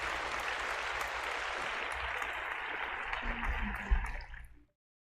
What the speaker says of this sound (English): a big round of applause for Michael